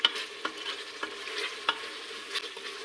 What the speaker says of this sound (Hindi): अब हम इसमें अपने बीफ को भूनेंगे अच्छे से।